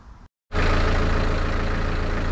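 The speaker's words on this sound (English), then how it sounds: "I've had the engine running now for a little while, maybe 10-15 minutes, so it should be nicely warmed up" A Land Rover Series truck engine idling after warming up, a steady, loud low rumble running continuously close by after a brief dropout at the start.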